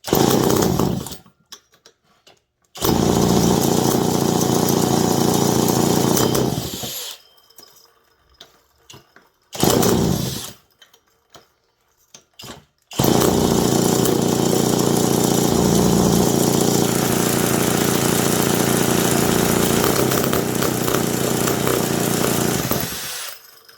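A McCulloch Mac 10-10 chainsaw with a newly swapped carburetor runs loudly up close in three bursts, the engine cutting out into near silence between them before a long final run.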